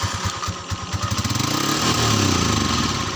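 A motorcycle engine runs just after starting, first in uneven low putters, then settling into a faster, steady chugging idle close by, with no talking.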